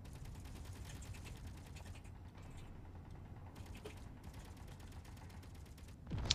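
A printer machine running in the video game Space Engineers, with steady mechanical clicking and ratcheting, rapid repeated ticks and faint creaks over a low hum, fairly quiet throughout, ending in a louder clunk.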